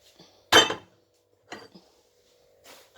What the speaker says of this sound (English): Place the pots.